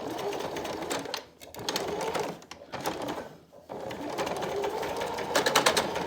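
A sewing machine stitches thick fabric for a face mask with a pocket, running in fast rattling bursts broken by short pauses, close and fairly loud, with no talking.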